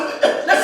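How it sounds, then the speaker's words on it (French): A man coughs twice in quick succession, close and fairly loud, the two short harsh bursts coming within a second. "Regarde comment il tousse."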